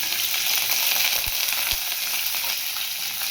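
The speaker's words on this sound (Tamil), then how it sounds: "கருவேப்பிலையை பச்சை மிளகாயும் போட்டுங்க வணக்கிக்கலாம்" Green chilies and curry leaves sautéing in a pan, a loud, dense crackling sizzle with a couple of low thumps of a spoon, no voices.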